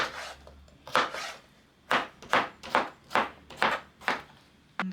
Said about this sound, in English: let's chop our cucumber